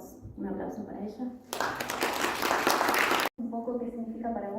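A short burst of audience applause, dense clapping between stretches of Spanish talking, at a literary tribute event honoring Mario Vargas Llosa in Buenos Aires.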